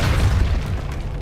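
A Depulso spell fires in Hogwarts Legacy with a single loud, low booming blast that rumbles briefly and fades out.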